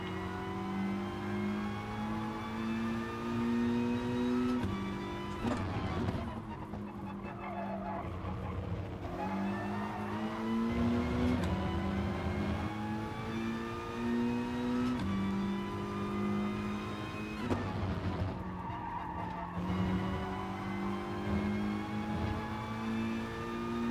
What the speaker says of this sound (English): I'm driving the Evo. Four-wheel drive tyre killer.